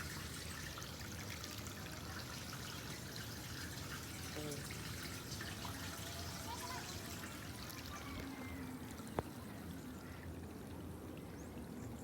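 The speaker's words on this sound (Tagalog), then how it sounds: "Guys, may nag-overflow ng tubig dito guys." Water overflows and trickles outdoors on a hiking trail as a continuous faint splashing wash. It is steady and far-sounding, with a soft low rumble and no clear voices.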